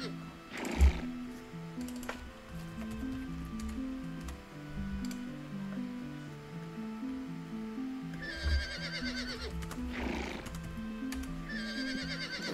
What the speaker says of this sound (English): Oh, there's a white horse there.